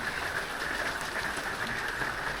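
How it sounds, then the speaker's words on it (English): Steady rain falls outdoors in a dense, even hiss of drops pattering on surfaces, continuous and close without pauses or voices. "let me move just a minute because I'm getting rained on."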